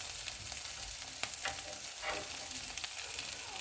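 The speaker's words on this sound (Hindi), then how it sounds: "अब हम चूल्हे को मीडियम कर देते हैं और इसे सारी साइडों से ग्रिल कर लेते हैं।" Chicken grilling in a pan on a medium flame gives a continuous crackling sizzle with scattered pops, close by and fairly quiet, with no voices.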